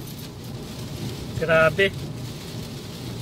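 Heavy rain pours steadily in a storm on Corfu, a broad hiss under a low rumble, with a brief spoken exclamation cutting in near the middle.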